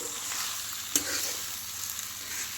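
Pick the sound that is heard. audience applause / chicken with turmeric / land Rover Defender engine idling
chicken with turmeric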